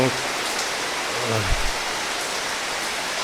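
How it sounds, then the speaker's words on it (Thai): Steady rain falls outdoors in mid-September as a dense, even hiss, with a voice briefly speaking over it. "ฝนตกเชงแสะเชงแสะนี่ก็เป็นลักษณะ ธรรมชาติ"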